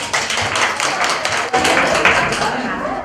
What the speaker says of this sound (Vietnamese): Một tràng pháo tay cho được không quý vị đấy.